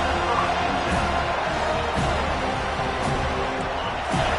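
Stadium crowd noise in a Madden football video game, a steady loud roar of cheering that runs throughout with a commentator-style voice talking over it.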